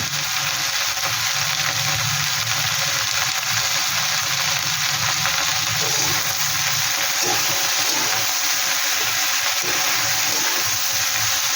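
Kachki fish fry with turmeric and Kashmiri chili powder in a pan, giving off a steady, dense hiss and sizzle that holds at the same loudness throughout, with no voices.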